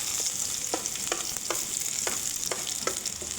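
Garlic frying in hot oil in a pan, a steady close sizzle with a bright hiss, broken by about eight soft scraping stirs at a roughly even rhythm. No voices.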